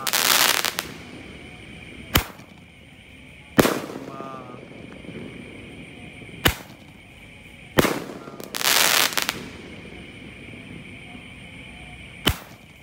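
Mercon basoka and roman candle fireworks launch at night, each shot a sharp whooshing burst followed by a crack, repeating irregularly about every two seconds, close and loud.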